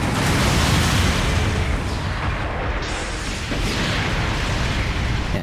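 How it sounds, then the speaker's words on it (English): Mobile suit blowing up in Gundam Battle Operation 2, a loud, dense rumbling blast that fills the whole stretch with sustained booming noise and no talk. "Enemy mobile suit destroyed."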